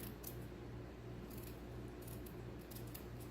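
Quiet snips of scissors cutting through paper, several short close cuts spaced out over a low steady hum.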